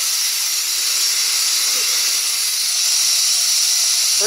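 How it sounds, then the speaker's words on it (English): Compressed air bleeding out of the air system of a remote-controlled Nerf turret makes a steady, unbroken high-pitched hiss that runs loud and constant throughout. "We're bleeding down the system."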